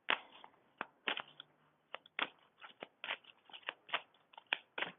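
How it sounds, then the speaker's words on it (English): Tarot cards are shuffled by hand in rapid, irregular riffling bursts, close and crisp against a quiet background. "Let's go shuffle the cards."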